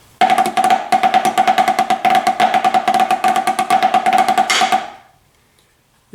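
Several measures of drum rudiments on a snare, paradiddles, diddles and rim shots, play in a brisk, crisp rhythm up close, then ring off into near silence.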